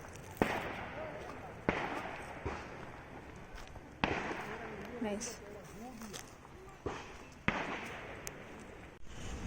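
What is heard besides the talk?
fireworks exploding in Darjeeling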